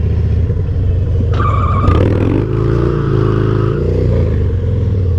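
A Harley Dyna motorcycle drifting, its engine droning loud and close as the rear tire breaks loose, with a brief rising squeal and revs shifting in pitch.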